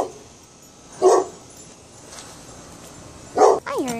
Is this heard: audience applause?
no